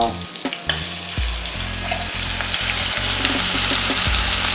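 Minced garlic sizzles loudly in a pan, a close, continuous frying crackle with a few soft thumps of stirring near the start, no voices.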